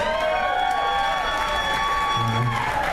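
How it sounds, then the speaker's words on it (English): A cruise ship Halloween costume contest crowd cheers and applauds for a Cyclops costume, a loud continuous roar of shouts and clapping with high voices rising above it, sustained for the whole stretch. "make some noise for the Cyclops"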